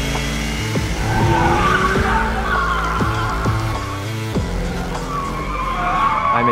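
A 2016 Chevrolet Camaro is pushed hard, its tires squealing and skidding loudly in long sustained howls that rise and shift in pitch over the engine's roar, with no talking.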